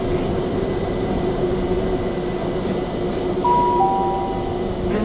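Steady low rumble inside a moving London train approaching Haggerston station, a continuous droning hum with a brief high tone partway through.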